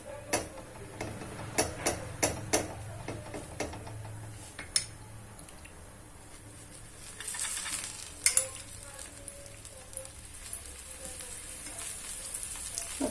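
A coriander and spring onion paratha fries on an oiled griddle pan, giving a continuous soft sizzle with sharp crackles and pops, louder at the start and again near the end.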